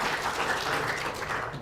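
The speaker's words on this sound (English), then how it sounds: "Let's give Liam a round of applause for his reading." A church congregation claps after a child's reading, an even, sustained round of applause filling the room for under two seconds, with no talking over it.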